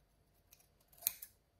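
Scissors snip through paper that tends to fray, a couple of quiet crisp cuts with one sharper snip near the end, close by in an otherwise silent room.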